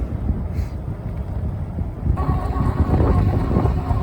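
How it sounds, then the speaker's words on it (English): Strong wind buffeting a microphone outdoors while riding a Philodo H8 electric bike near a bridge, a steady low roar that grows louder and rougher halfway through, no talking. "the wind is really strong out here"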